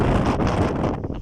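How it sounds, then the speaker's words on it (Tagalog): Strong wind on a mountain at dusk buffets the microphone in a short, loud, rumbling roar with gusty surges, and no one speaks. "Lakas ng hangin dito mga paks"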